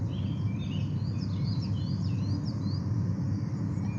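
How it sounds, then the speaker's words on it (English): Coal tit singing in a garden dawn chorus around six in the morning, its thin repeated high phrases over a steady low background hum and other distant birds. "Choo choo choo choo choo, coal tit."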